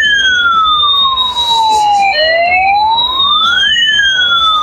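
A battery-powered toy ambulance sounds its electronic siren, a loud, continuous wailing tone that sweeps steadily up and down in pitch, close by against faint background noise.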